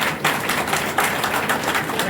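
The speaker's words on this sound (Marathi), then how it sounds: "आपण आपल्याचसाठी टाळ्या वाजवायचे" An audience at a felicitation ceremony for former teachers, held at a school batch reunion, clapping together in dense, sustained applause with a steady, even rhythm.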